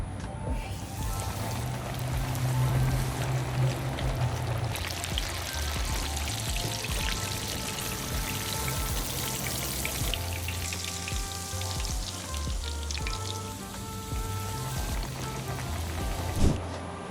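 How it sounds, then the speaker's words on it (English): Cornmeal dropped into hot frying grease crackles and fizzes steadily with a dense, bubbling sizzle, close by, with occasional sharper pops and no talking. "drop it in the grease. See what it does? See the sizzly, fizzly thing going on?"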